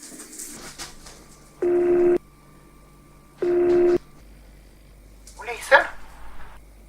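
A telephone call being put through to the police in a Swedish setting: two steady electronic tones, each lasting about half a second and separated by a pause, then a brief faint voice-like burst.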